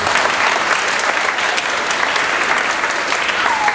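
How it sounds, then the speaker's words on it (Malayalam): A church congregation claps for a class 5 first-rank prize winner, a few seconds of loud, even, close applause that carries on steadily throughout with no one speaking. "സോ എല്ലാവരും കൈയടിച്ച് പ്രോത്സാഹിക്കും."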